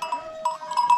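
Close up, a young lamb gives a few short, high, wavering bleats in quick succession with no talk.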